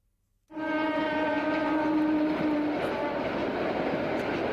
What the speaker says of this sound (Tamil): உனக்கு ட்ரெயின் சத்தம் கேட்கல?